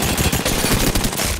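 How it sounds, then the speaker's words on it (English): Loud, close automatic gunfire in Apex Legends, a brief continuous rattling burst of shots while under attack. "They're shooting at me!"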